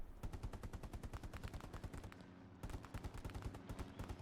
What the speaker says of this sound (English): Yes, that is artillery.